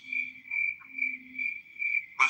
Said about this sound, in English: I don't know who's doing the cricket sound